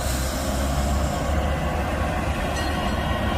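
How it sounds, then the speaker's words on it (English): A tourist train carrying visitors rolls past at the York House and Fort George grounds, a steady close rumble of wheels and carriages that fills the whole stretch without a break. "Here comes the train"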